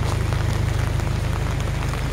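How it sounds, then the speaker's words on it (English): Raindrops patter steadily on surfaces during a walk through a residential subdivision in Davao City, a continuous soft hiss with a low rumble beneath it and no voices. "So there's raindrops."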